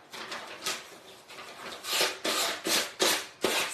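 Wood being sanded by hand while making a DIY wooden banner, a series of about eight rhythmic rasping strokes that grow louder and sharper toward the end, close up with no talking.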